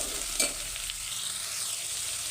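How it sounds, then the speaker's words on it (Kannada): Vegetables fry in hot oil in a pan for a rice pulao, giving a steady close sizzle with a brief stirring scrape near the start and no talking. "ಚೆನ್ನಾಗಿ ಒಂದು 5 ನಿಮಿಷ ಫ್ರೈ ಮಾಡ್ಕೊಳ್ಬೇಕು"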